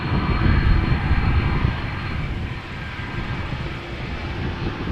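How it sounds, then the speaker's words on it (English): An Air Baltic Airbus A320 jet bound for Riga at Amsterdam Schiphol Airport, its engines giving a steady broadband roar that swells slightly early on and then holds, alone without voices. "Air Baltic, going to Riga, flight 618, Airbus A320-300."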